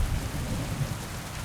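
Steady rain falling in the video game Kingdom Come: Deliverance II, a dense continuous hiss with low rumbling underneath, even and unbroken throughout with no voices.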